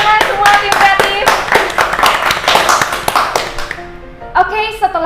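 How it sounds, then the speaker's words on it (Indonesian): A creative team applauding on a talk show, a burst of quick claps close by that mixes with loud voices and music, then fades toward the end as talking carries on. "Tepuk tangan semua tim kreatif"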